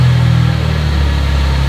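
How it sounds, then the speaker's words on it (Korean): A Chevrolet Traverse Redline with twin square muffler tips idles close up, its exhaust giving a steady, loud, low rumble with a faint pulsing throb. "뿌랑 배기음 좋습니다"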